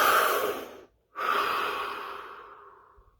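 A deep breath drawn in long and loud, a brief silent hold, then a slow, steadily fading exhale, close and alone with no talking.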